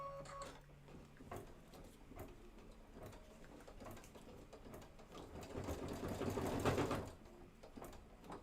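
An embroidery sewing machine stitches a design in a quick, even, mechanical patter, fairly quiet and close, swelling slightly louder near the end with no talk.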